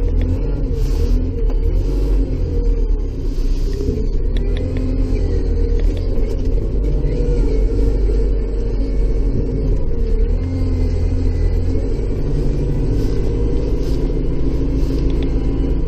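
A tractor engine idles and rumbles steadily while clearing the first snow of the season in Bay Roberts, Newfoundland, with a constant low drone and occasional faint mechanical clanks, close and continuous with no talking.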